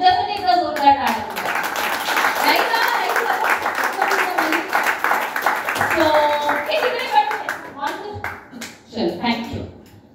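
An audience at a life-coaching meditation session gives a round of applause, steady clapping mixed with voices talking over it.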